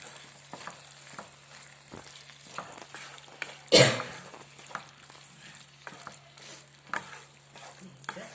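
Soaked potatoes being stirred into hot masala in a pan, giving a soft frying sizzle with repeated scraping stir strokes and one louder burst of spitting near the middle; no speech.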